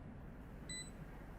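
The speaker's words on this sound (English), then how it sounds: "As soon as he hears that alarm bot being placed" An alarm bot is placed in Valorant during a VCT Americas 2023 pro match, producing a brief, faint electronic chirp of high tones above a steady low background hum.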